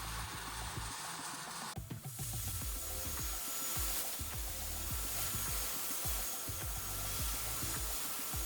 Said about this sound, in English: sanding very lightly in between.